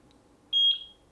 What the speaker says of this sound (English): press the sync button for 2 seconds until you have a beep